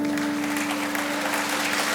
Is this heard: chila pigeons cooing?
no